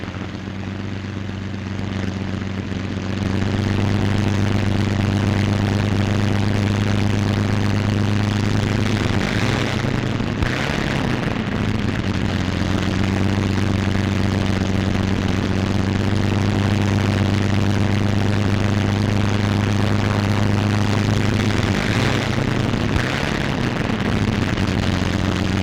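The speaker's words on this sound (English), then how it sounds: "Plane taxis to its own hard standing, widely dispersed around the field." A P-47 Thunderbolt fighter plane taxis with its engine running on an airfield, a loud, steady propeller drone holding close throughout, swelling slightly in a couple of places.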